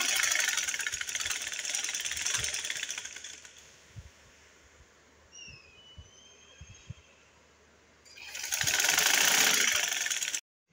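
A sewing machine stitches a Balochi suit, running in a loud fast mechanical whir at the start, falling quiet with a few faint clicks, then running again in a second burst before stopping.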